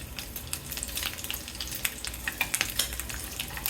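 Beef ribs sear in a hot pan for a beer-braised dish, giving a dense, crackling sizzle full of quick spitting pops, close up and steady with no voices.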